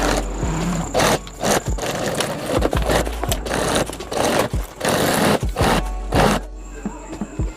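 An electric sewing machine stitches the seams of a homemade fabric travel bag, a steady mechanical whirring broken into short bursts with brief pauses and clicks as the fabric is repositioned, close and fairly loud.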